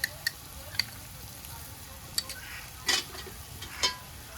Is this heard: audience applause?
no